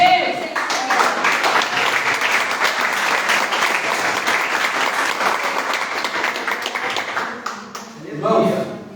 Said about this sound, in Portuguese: Glorifica Jesus nas suas palmas.